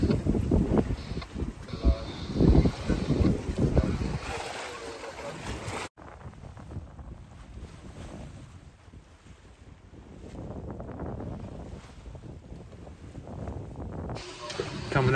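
Wind and ocean swell wash around a sailboat under way off the Portuguese coast, a steady broadband rush with a louder, busier stretch at first, then a quieter, even hiss of wind and water.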